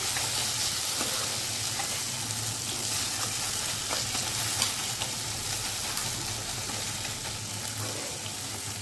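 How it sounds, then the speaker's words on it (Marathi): Onion fries in a pan on a gas stove, giving off a loud, unbroken sizzle and crackle that holds steady throughout, with no voices. "इकडे आपण आपला कांदा ठेवलेला आहे गॅसवरती त्यालाही बघूया मस्तपैकी त्याला कलर आलेला आहे"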